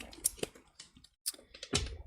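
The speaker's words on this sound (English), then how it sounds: "Let me actually get a fresh shuffle here" A tarot card deck being shuffled by hand, giving brisk papery riffles and flicks in a few bursts with short pauses between, close and fairly quiet, with no talking.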